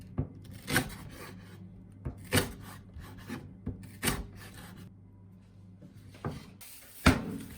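A knife slices diagonally through naganegi Japanese leek on a board: a series of sharp, separate cutting strokes with quiet gaps between them, close and fairly soft.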